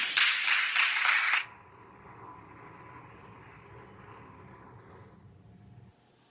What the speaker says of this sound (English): we hear the the tepid late night applause there as the Senate passes this procedural vote